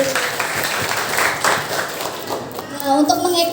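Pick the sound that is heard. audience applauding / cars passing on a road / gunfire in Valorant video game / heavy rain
audience applauding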